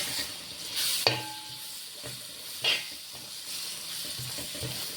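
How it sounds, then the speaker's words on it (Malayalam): Chili powder and tomatoes sauté in a pan for a Kerala-style chicken curry, giving a steady soft sizzle with occasional stirring clinks and scrapes close by, no voices. "കുറച്ച് മുളക് പൊടി നല്ല വഴറ്റിയിട്ട് വേണം ബാക്കിയുള്ളതിടാം"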